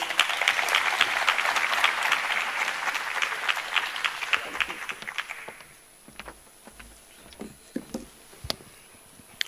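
Crowd applause at a mayoral matric awards ceremony, dense and steady at first, then thinning out into scattered individual claps and fading away.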